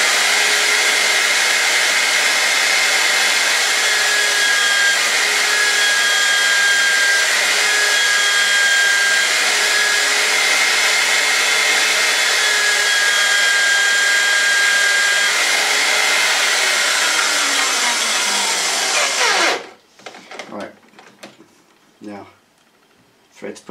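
A spinning tool whirs steadily while cleaning the thread of a stainless steel pin on a Triumph Tiger brake job: a loud, continuous whine that lasts nearly twenty seconds, then cuts off into scattered clicks and handling noises.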